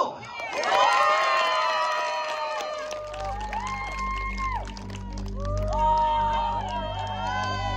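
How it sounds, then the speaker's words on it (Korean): Crowd at an outdoor community festival in Pyeongnae-dong cheers and shouts loudly, swelling and fading around a steady low hum, with brief bright whoops over a continuous bed of voices. "박수!"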